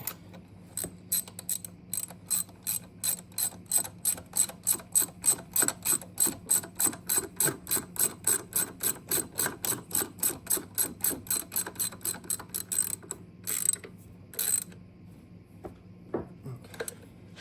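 A ratchet wrench clicks steadily in a long run of rapid, evenly spaced ratcheting strokes while turning the upper engine mount bolts on a 2017 Ford Escape 2.0, close and clear, pausing briefly near the end before a few final clicks.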